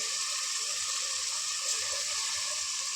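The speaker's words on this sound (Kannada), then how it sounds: "3 ಲೋಟ ನೀರು ಹಾಕ್ತೀನಿ ನಾನು." Water pouring steadily into a pot of washed rice for tomato bombe rice, a continuous close splashing rush that holds evenly for the whole stretch with no voices.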